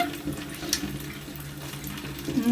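Tap water runs steadily over soaped kitchen utensils being rinsed in a sink, with a close splashing flow and a light clink of a utensil partway through.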